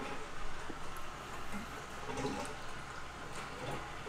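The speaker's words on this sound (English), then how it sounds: "I'm going to turn the water on right now." Water from a garden hose with a small T fitting runs steadily into fish tanks during a DIY water change, a continuous broadband rush at moderate level with no talk.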